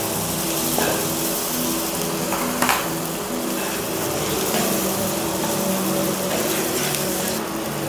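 A fish finger mixture fries and sizzles in a pan while being stirred, a loud continuous hiss with occasional scraping clatters, close up and with no talk.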